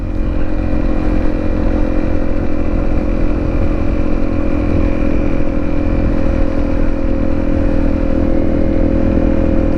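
Honda CRF 250 Rally motorcycle engine droning steadily throughout a ride, loud and continuous with a constant mid-range hum and wind rumble, no talk.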